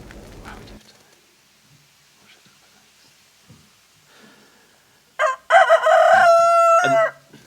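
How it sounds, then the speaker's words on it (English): A rooster in the video game Proteus crows once, loud and close, a long drawn-out call near the end that follows several seconds of quiet, faint ambient sound. "so the rooster in the game there is the band's rooster that they keep chickens"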